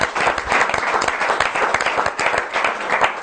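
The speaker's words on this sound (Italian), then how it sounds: "facciamo un applauso" A television studio audience applauding in a dense, lively burst of close clapping with sharp individual claps throughout, loud and steady.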